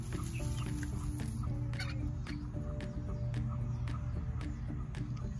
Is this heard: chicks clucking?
yes